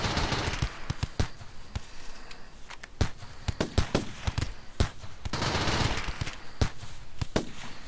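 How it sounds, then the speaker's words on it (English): Automatic turrets firing at enemy raiders in the Rimworld video game, rapid irregular bursts of sharp gunshots with short gaps, some shots overlapping, loud and close over a low background wash. "the turrets are focusing on, all by themselves, on enemy targets."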